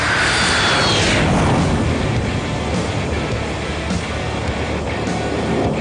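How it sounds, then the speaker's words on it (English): Eurofighter jet aircraft flying, a loud broadband engine roar with a high whine that sweeps down early on, then a sustained steady rush of jet noise with no voices. "It's the Eurofighter,"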